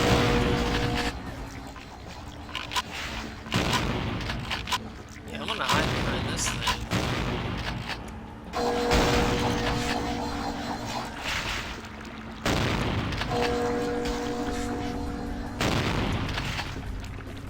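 Shotgun blasts in the PC role-playing game Vampire the Masquerade Bloodlines, heavy booms repeating every few seconds among game noise and background music, with a voice talking now and then.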